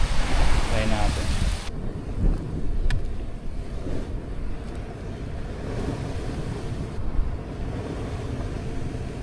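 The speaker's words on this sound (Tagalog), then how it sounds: "Kasi malakas yung alon eh" Strong wind buffets the microphone over rough, crashing sea waves while fishing, a loud continuous roar with gusty surges.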